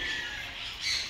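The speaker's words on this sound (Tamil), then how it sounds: "இது வந்து ஆஸ்திரேலியன் வகை பறவைங்க." Australian birds in a bird park in Pondicherry squawk loudly and harshly at close range in a short, raspy burst, with no talking.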